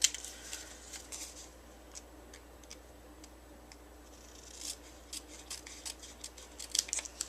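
Scissors trim excess paper from an envelope with faint, crisp snips close by, coming irregularly in a quiet room and clustering more densely toward the end.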